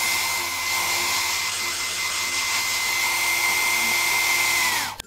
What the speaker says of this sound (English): we'll need the help of a blow dryer